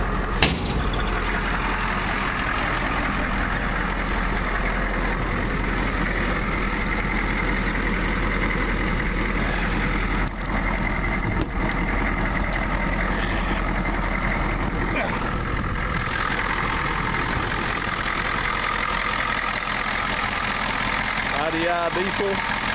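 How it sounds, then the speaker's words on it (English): A 1993 Ford F-250 extended cab with a non-turbo IDI diesel idles steadily, a loud, continuous low rumble heard up close throughout with no break. "IDI diesel, not turbo."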